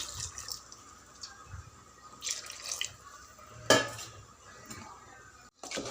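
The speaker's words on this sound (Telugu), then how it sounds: "వాటర్ పోసుకుందాం" Water is poured into a pot of spiced chicken curry, splashing and trickling among clinks of metal pots and utensils, with a brief louder splash midway, in a kitchen.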